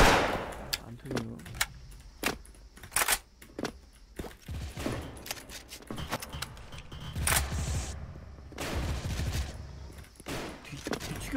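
Gunfire in the Special Force video game, with M4A1 rifle bursts and sharp single shots cracking irregularly, some loud and close, others distant, while players talk over the action.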